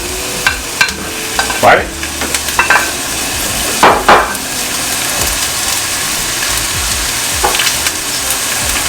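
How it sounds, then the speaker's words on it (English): Onions and garlic sizzle in a hot pan for garlic macaroni and cheese, giving a continuous frying hiss broken by sharper scraping stir strokes, while a voice briefly speaks. "onions and garlic, and we're going to put them in here just like this"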